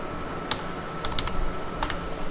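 Keystrokes on a computer keyboard as text is typed into a web form: a few sparse, light clicks in short bursts over a steady background hiss, fairly quiet with no voice.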